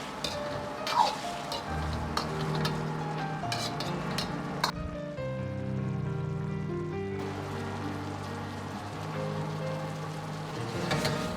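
Tofu simmering in sauce with chopped aromatics over medium heat, a quiet bubbling crackle with occasional spoon and pan clinks, close and steady.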